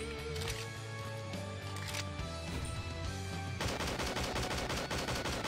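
An MK16 sniper rifle fires in the horror video game Slendytubbies 3, a dense run of sharp shots that turns into rapid repeated bursts, heard over busy game background sound.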